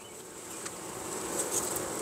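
Honey bees buzzing at an open hive during a frame inspection, a steady soft drone of many insects with a few closer passes, constant and unbroken, no talk.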